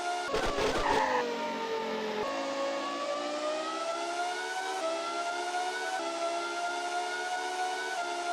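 Race car engine in NASCAR Racing 2 on DOS during the 1996 Cup race at Martinsville, a steady high whine that shifts pitch as the car slows for a turn, with a brief harsh burst near the start, loud and continuous.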